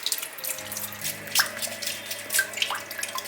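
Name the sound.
brushing and rinsing fresh abalone clean under running water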